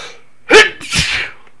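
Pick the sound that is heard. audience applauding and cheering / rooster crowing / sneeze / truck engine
sneeze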